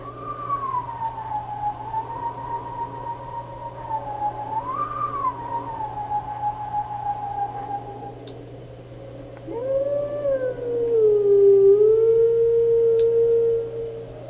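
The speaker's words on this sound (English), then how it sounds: "Oh, Howling Stone." A Howling Stone in Zelda: Twilight Princess gives a long, wavering, sine-like howl that slides up and down in pitch over a steady low hum, then turns to a louder, bending tone with overtones near the end.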